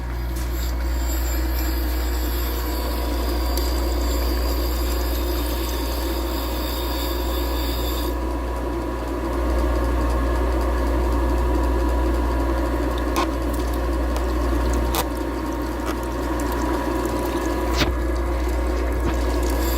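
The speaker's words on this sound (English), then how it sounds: "We have a little diamond here that we can move forward or backwards till it contacts the stone, and then we'll just true up the face of that grinding stone." A valve grinding machine's stone face being trued with a diamond dresser gives a steady, loud whirring hiss with a watery, coolant-like wash, shifting in tone partway through as the diamond contacts the stone.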